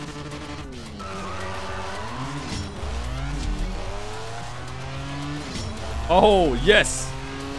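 Race car engines from CSR Racing 2 rise and shift through gears in a sustained drone, ending in squealing tires, while someone talks over them and calls out excitedly.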